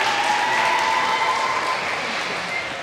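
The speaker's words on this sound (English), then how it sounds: "Let's give Ms. Honey a round of applause and a nice warm welcome." Steady, dense applause from an audience at a kindergarten graduation ceremony, sustained and fairly loud throughout without a break, fading slightly toward the end.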